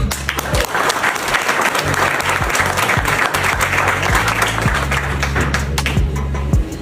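A crowd claps and applauds loudly and continuously, a dense wash of many hands with some voices mixed in.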